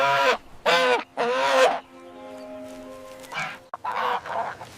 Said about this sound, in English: This is a small black farm goose.